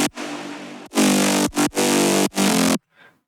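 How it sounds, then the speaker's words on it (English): A future bass mid bass synth plays alone in loud, bright chord stabs with a rhythmic, cut-off pattern, several held hits and short gaps, ending in silence with a faint tail. "the mid basses alone sound like this"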